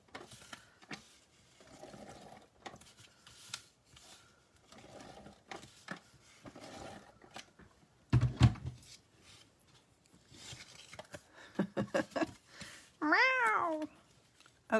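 A cat gives a short, clear meow near the end, after quiet scattered rustles and small clicks of card-making tools on a craft table. Faint at first, the meow stands out alone and fairly close.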